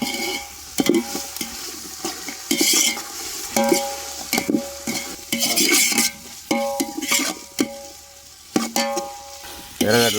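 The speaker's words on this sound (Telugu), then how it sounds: "మనకు బాగా నైస్గా తరిగి పెట్టుకుని ఎర్రగడ్డలు వేసుకుందాం." Chopped onions and ginger garlic paste stir-fried for mushroom biryani give a steady sizzle broken by repeated metallic scrapes and clinks of a spoon against the pan, close and loud, with no talk.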